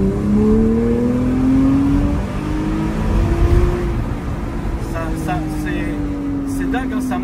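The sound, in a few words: naturally aspirated Porsche engine revving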